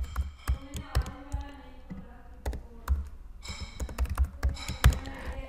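Scattered, irregular key taps on a computer keyboard as a password is entered, close and fairly crisp over a faint background hum.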